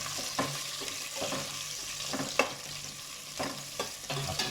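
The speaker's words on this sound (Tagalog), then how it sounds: "So ayan po, sibuyas po isusunod natin. Ayan, halu-haluin lang po natin." Onions sautéing in a pan for chicken tinola, with repeated scraping stirs against a light, steady sizzle, close and unaccompanied by talk.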